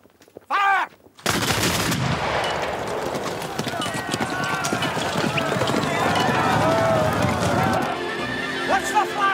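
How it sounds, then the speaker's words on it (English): Soldiers in a Napoleonic-era battle fire a musket volley near a bridge with cavalry about: a horse whinnies briefly, then a sudden loud blast gives way to a long rumbling, crackling roar of shots and hooves, with shouting voices. "Make ready! Present! Fire!"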